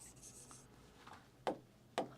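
A pen writing formulas by hand during a business studies lesson, a faint close scratch followed by two sharper strokes near the end, with no voices.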